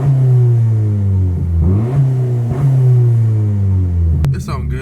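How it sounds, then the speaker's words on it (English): A Honda Civic engine with an aftermarket intake and turbo drones close by and revs up a few times in rising and falling swells, ending with a short clattering burst. "let me give y'all a little rev and see if y'all could hear the intake"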